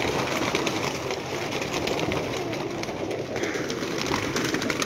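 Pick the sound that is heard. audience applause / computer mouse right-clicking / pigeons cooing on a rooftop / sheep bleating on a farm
pigeons cooing on a rooftop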